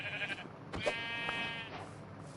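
A sheep bleats in the video game Minecraft, one clear wavering bleat near the middle, fairly quiet with no talk over it.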